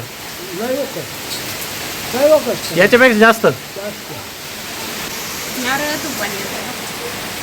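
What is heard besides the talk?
heavy rain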